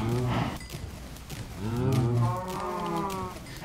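Minecraft cows let out several drawn-out moos, one after another, with a brief pause between calls, clear and close with no talk over them, as they are bred with wheat.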